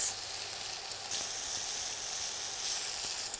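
Shallots, garlic, chilies and anchovies sauté in a pan with a steady, close, even sizzle and a few faint stirring scrapes, with no talking.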